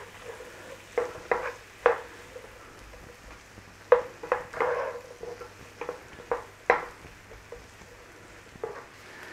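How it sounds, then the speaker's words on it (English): Onions and garlic frying in a pan, a soft steady sizzle punctuated by irregular stirring scrapes and taps, close and without talk. "So in with our onions, in with the garlic, and just a nice little cooking on there."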